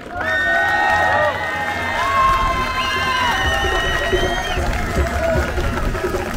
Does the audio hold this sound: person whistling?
no